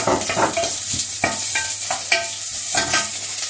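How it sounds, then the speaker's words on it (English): Onions tossed into a hot pan after fried fish is lifted out for a Mauritian fish vindaye, sizzling steadily while a spoon scrapes and stirs in several distinct knocks, close and clear with no talk. "I'm just going to throw my onions, give it a stir"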